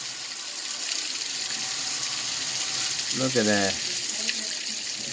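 Rainwater rushes and splashes steadily toward a building during a storm with faulty gutters, a broad continuous wash of water; a voice speaks briefly partway through.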